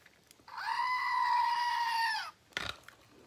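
A goat gives one long, loud, wavering bleat nearby, lasting nearly two seconds, followed by a brief rustling thump.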